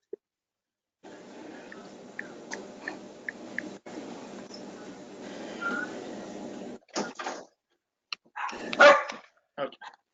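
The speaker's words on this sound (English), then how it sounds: "Sorry about my dogs." Dogs barking in the background of a home during an online support group meeting, a few scattered barks and yips amid faint room noise and brief muffled voices.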